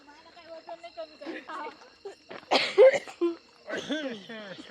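A woman gives a few harsh coughs in the middle of ongoing conversation, with voices talking before and after.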